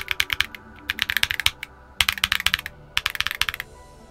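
Typing on a Portico68 Black Label keyboard fitted with Kiwi tactile switches produces quick bursts of close, crisp keystrokes in uneven clusters with brief pauses between, no voices present.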